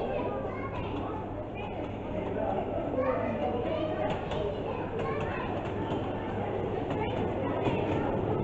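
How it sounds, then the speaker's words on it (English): A miniature passenger train at Moors Valley near Bournemouth rumbles steadily along its track back toward the station, a continuous low rolling drone under children's chatter and an adult voice. "The train's coming back to Kingmere."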